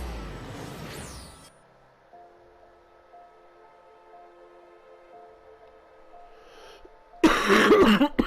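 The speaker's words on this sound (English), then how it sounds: "Forgive me, oh, I'm going to be coughing a lot." A person coughs hard a few times at the start, followed by a quiet stretch of steady tonal hum, and then a loud burst of coughing and throat noise near the end.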